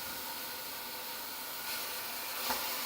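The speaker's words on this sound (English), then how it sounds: "You can hear it sizzle." Butternut squash pieces sizzle in a pan with browned garlic and onions, a steady hissing crackle that stays even throughout, close and fairly quiet, with no talk.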